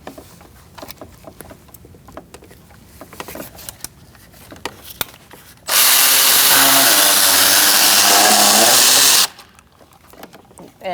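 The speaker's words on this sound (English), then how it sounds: "Again, using an E10, we're going to remove our ground straps." Power tool with an E10 socket backing out ground strap bolts on a 2008-2014 Mercedes-Benz C300 3.0L V6 engine, a loud steady whine for about three and a half seconds after quieter clicks and handling noises, with a voice speaking.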